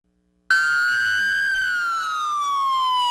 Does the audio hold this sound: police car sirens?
yes